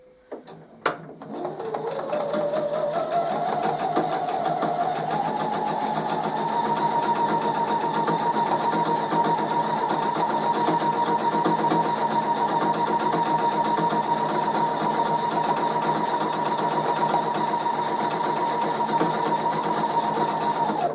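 Sewing machine running steadily as it stitches a quarter-inch quilt seam, starting with a few clicks, then settling into a fast, even, close-up whirring hum that carries on unbroken for about twenty seconds.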